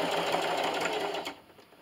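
A sewing machine runs steadily, stitching a quarter-inch seam along fabric for a keyboard and mouse wrist rest, then slows and stops as it nears a corner.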